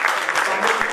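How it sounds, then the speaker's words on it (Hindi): Dense theatre audience applause welcoming the crew, steady and fairly loud with no gaps over a brief moment. "तालियों के साथ स्वागत करें"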